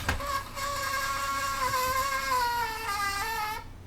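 A floppy disk drive with contaminated heads gives off a loud, sustained tonal squeal that wavers slightly in pitch for several seconds over a mechanical whir, then cuts off abruptly.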